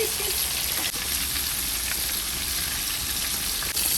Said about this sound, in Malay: Ayam goreng pukul 3 pagi.